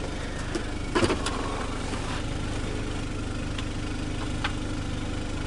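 A Kia Optima SX T-GDI 2.0 turbo 16V with 274 hp runs steadily at idle nearby, its low rumble constant with a brief louder burst early on.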